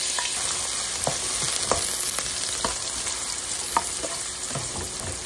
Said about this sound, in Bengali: পেঁয়াজগুলো ভালো করে ভাজতে হবে।